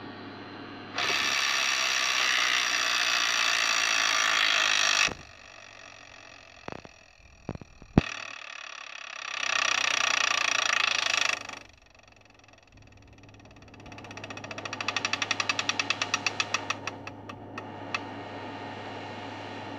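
An electronic Wheel of Fortune Deluxe Edition tabletop game whirs in loud mechanical bursts with pauses between them, then its spinning wheel rattles with rapid plastic clicks that slow and fade to a stop.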